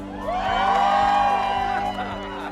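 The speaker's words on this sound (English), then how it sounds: "cheer louder if you're having fun" A church congregation cheering and whooping together, a swelling burst of many voices lasting a couple of seconds before easing off.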